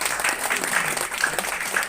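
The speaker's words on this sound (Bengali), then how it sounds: "সবাই একটু হাতে তালি দেন" An audience at a formal award ceremony claps together in a steady, dense patter of hands, sustained and fairly close, without voices.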